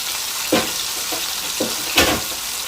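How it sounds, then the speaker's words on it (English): Stewed chicken pieces sear in a hot pan, a steady sizzle broken by several louder hissing bursts as the pieces are flipped and pressed down. "let me just flip these over a little bit again just to make sure we have a good sear on it"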